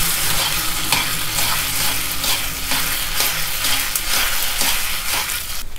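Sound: stir-frying noodles in a hot wok

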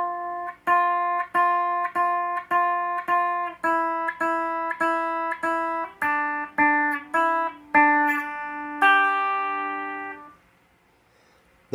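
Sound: guitar playing the second part of Jingle Bells

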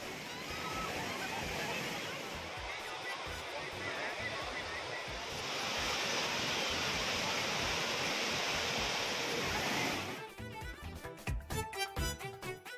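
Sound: waterfall with tourists bathing

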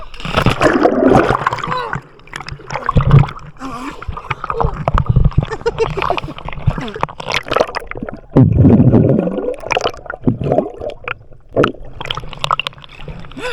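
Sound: person jumping into water at a beach resort, splash

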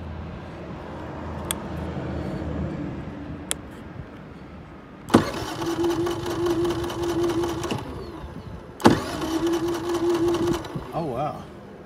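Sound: Generac iQ3500 generator electric start, engine failing to turn over

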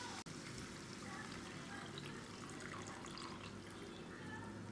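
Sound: water poured into a cooking pot

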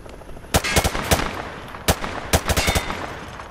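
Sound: gunfire at targets in video game Call of Duty Modern Warfare 2

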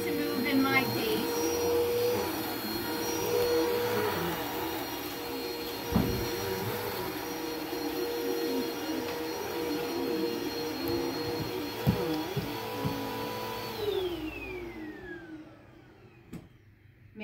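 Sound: vacuum cleaner running during house cleaning

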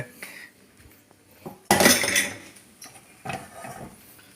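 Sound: stirring eggs in a pan

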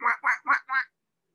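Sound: ducks quacking in a backyard

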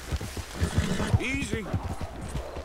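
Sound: horse galloping in Red Dead Redemption 2 video game

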